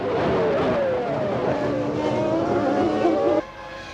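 Formula 1 cars of the 1998 season race off from the start, engines screaming loud and close in a dense, continuous whine of rising and falling pitches that drops off abruptly near the end.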